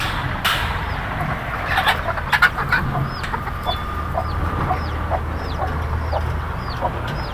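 Chickens cluck and chirp repeatedly in a small backyard poultry shed, several birds calling over a steady outdoor background hum.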